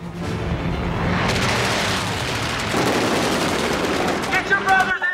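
Dense machine-gun strafing from attacking planes in a Pearl Harbor war film rattles in rapid continuous bursts with booming impacts, loud and close, layered under a voice speaking.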